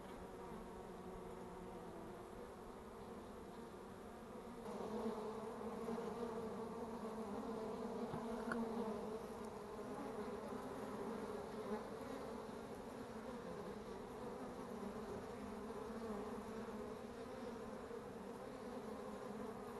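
A continuous, low drone of many honey bees buzzing around hives in a winter hive yard, steady and fairly quiet with a slight swell partway through, and no voices.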